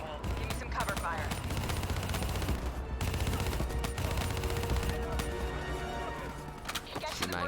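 Rapid, loud automatic gunfire with overlapping shots in a Call of Duty: Black Ops III battle, continuing steadily as a dense fusillade over other game noise.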